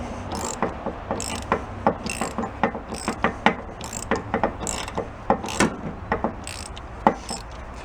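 A 1/2-inch ratchet clicks in quick, irregular bursts of sharp pawl ticks while loosening spark plugs on a forklift engine, close and fairly quiet, with no talking.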